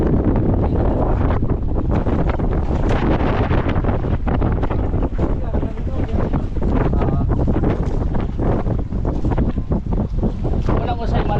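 Strong wind roars and buffets against the microphone aboard a boat at sea off Camiguin Island, a loud continuous rumbling gust with water splashing beneath, while a voice talks faintly under the noise.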